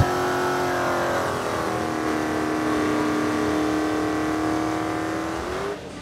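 A 2015 Dodge Hellcat Charger's engine holds a loud, steady revving drone that climbs in pitch and then cuts off near the end, with no talk over it.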